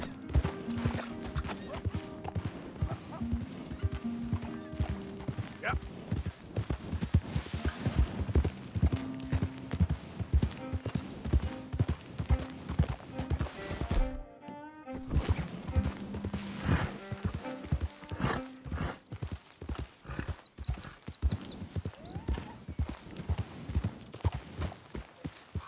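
Horse hooves clip-clop in a steady rhythmic trot with an occasional whinny, moderately loud and close, continuing almost without a break through a long stretch.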